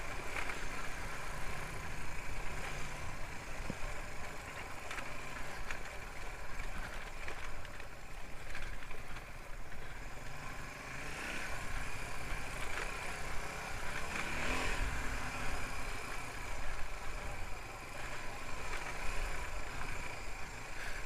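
A Suzuki DR250S motorcycle rumbles steadily on a green lane, its engine running continuously at a mid-pitched idle or low pace, fairly close and constant throughout with no talking.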